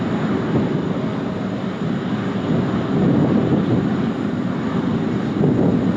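Airliner taxiing at Sydney Airport, a steady broadband engine roar and rumble holding constant throughout, moderately loud and somewhat distant, no talking.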